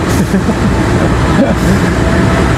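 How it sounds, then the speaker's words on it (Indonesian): The Logawa passenger train departs from a station, a loud, steady rumble and roar of rolling railcars close by that fills the whole clip. "kereta Logawa diberangkatkan terlebih dahulu ya"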